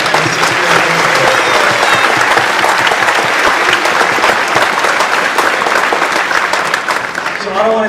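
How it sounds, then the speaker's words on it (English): Loud, close, continuous applause from a school audience at a middle school orchestra concert, dense clapping filling the whole stretch with only a slight dip near the end. "So please, one more round of applause for Mr."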